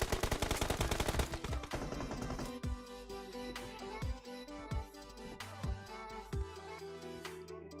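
Rapid automatic gunfire from a PUBG Mobile tournament match, dense bursts at first and then scattered single shots over a steady game background, with no talking.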